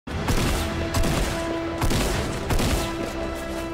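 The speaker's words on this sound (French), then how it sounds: "Mon pompe tire tout seul" Rapid, close gunfire from a shotgun in a video game, with repeated sharp blasts rattling over a steady tonal game background for a few seconds.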